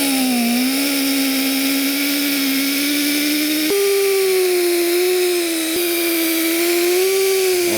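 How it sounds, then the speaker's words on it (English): A power buffer polishes the gel coat on a boat (a RIB) with 3M compound, a steady close whine with a droning motor hum that shifts pitch slightly as pressure changes, running continuously without talk. "Okay, ready for a buff."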